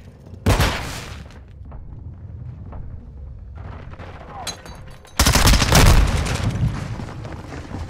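Gunfire and a grenade explosion in the video game Modern Warfare 2: a sudden loud blast, a stretch of sustained firing, then a second heavy explosion with a long roaring tail, all close and dense.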